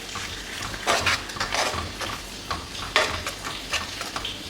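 Jaggery filling with grated coconut is stirred and roasted in ghee in a pan, producing rhythmic scraping and clinking of a utensil against the metal with a faint sizzle throughout.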